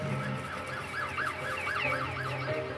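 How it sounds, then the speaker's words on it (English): An ambulance siren wails in repeated rising and falling sweeps, moderately loud and steady across the whole stretch, with a low background rumble and no talking. "The ambulance EMS personnel had arrived on scene"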